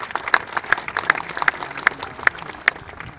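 An exhibition audience at a biennial of miniature art applauds, a light, sparse patter of hand claps from a modest crowd close by.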